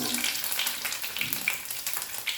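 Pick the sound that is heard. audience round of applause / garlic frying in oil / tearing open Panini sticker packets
garlic frying in oil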